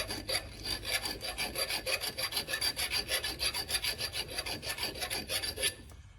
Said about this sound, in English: Probably gonna end up taking a reamer